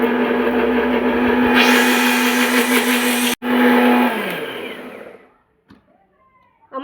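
A blender grinds 7–8 peppercorns and a large onion with a little water into spice paste, giving a loud, steady whirring drone. It briefly cuts out, resumes, then winds down into near silence.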